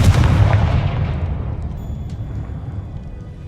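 A Confringo blast spell explodes in Hogwarts Legacy, a single loud booming burst at the start that rolls off into a fading rumble and quiet tail.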